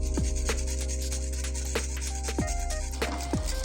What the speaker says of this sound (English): And while this is cooking, we also need to keep whisking this.